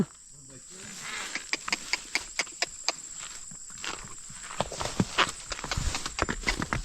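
Distinct hoofbeats clop on a hard surface in an irregular walking rhythm, close by, with crickets chirring faintly behind and brief voices.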